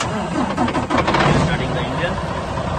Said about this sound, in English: Starting the engine and increasing the RPM.